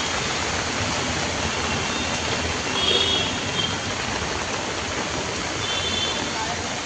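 Heavy monsoon downpour roars steadily throughout, a dense broadband wash of rain and running water close by, with no break in its intensity.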